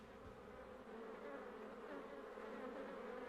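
A scout bee buzzes continuously close by, a steady droning hum that holds evenly throughout with no voices.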